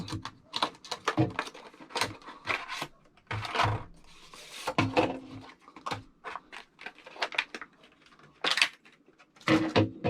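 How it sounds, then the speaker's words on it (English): A Ravemen CR1000 bike light is unboxed, with bursts of rustling, crinkling and scraping packaging in short irregular handfuls, close and with no talking. "we're going to go ahead and open up the Cr1000 packet now"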